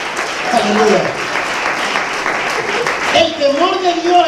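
Church congregation clapping in praise during a Spanish-language sermon on the fear of God, a steady broadband patter of many hands with voices and tonal sounds rising over it, louder toward the end.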